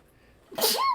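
A single loud sneeze comes out of a quiet background as one sharp, breathy burst that trails off, heard during a tabletop role-playing game session.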